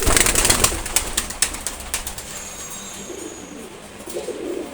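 A pair of Sobji Gorra pigeons coo near at hand, with sharp wing flaps and clatter early on, then softer low cooing alone toward the end.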